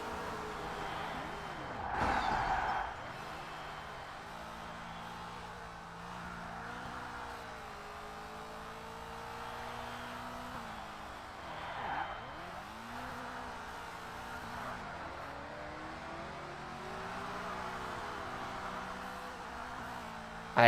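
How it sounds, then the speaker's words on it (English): A Carrera Markets race car in the Pro Race Driver video game drones through a long run of engine revving, its tone rising and falling steadily through gear shifts and corners, with a brief sharp swoop and occasional tire noise, moderately loud and continuous. "It's the power of the Carrera Markets car."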